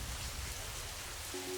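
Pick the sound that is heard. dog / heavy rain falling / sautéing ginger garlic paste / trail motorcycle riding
heavy rain falling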